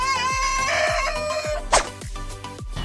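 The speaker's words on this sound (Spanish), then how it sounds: "Gallina." A chicken clucks repeatedly at close range in a steady, rhythmic series of short calls, with a louder squawk partway through and no talking.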